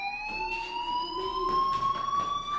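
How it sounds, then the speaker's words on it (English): A fire alarm in the video game Life is Strange rings with a steady, slowly rising electronic tone and bright overtones. It sounds continuously for the whole stretch, with no voices. "Hey, do you hear that fire alarm?"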